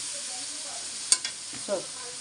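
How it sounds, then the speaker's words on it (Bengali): Prawns frying in a little oil in a home kitchen pan, a steady soft sizzle with a few sharp clinks and scrapes of a utensil against the pan. "চিংড়ি মাছ ভাজা হচ্ছে"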